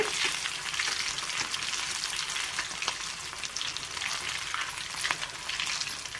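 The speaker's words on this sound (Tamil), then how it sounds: "ஸோ போடுறப்ப கொஞ்சம் பார்த்து போடுங்க, எண்ணெய் வந்து தரிக்கும்" Soya nuggets sizzle and crackle steadily in hot oil, with a dense bright hiss and scattered pops throughout, close by and without speech.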